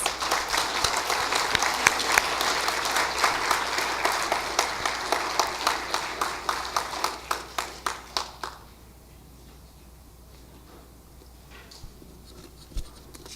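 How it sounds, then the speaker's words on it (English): Audience applause after a school board of trustees candidate forum: dense clapping that thins into a few distinct claps before fading out, leaving quiet room tone and a couple of stray claps. "Let's give our candidates a round of applause."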